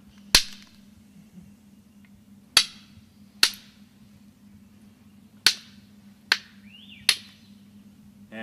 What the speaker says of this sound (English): Hear the flakes just kind of zinging off.